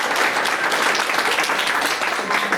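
A crowd at a NEET result celebration applauds the result holders, a dense continuous roar of clapping from many people, loud and close throughout.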